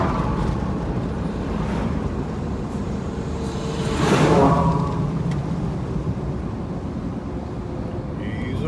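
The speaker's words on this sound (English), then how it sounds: "A lot of traffic on this road" Cars pass steadily on a rural road through a storm-hit area, a continuous rumble of tires with one vehicle swelling louder as it goes by near the middle before fading back into the constant traffic wash.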